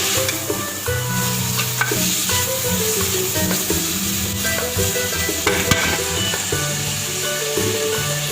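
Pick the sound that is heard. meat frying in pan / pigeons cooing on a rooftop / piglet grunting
meat frying in pan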